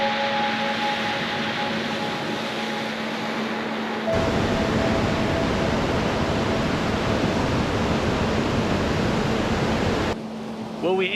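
Ocean surf at Rialto Beach in Olympic National Park, a steady broadband wash of breaking waves that grows louder partway through, with a faint hum early on and no talk.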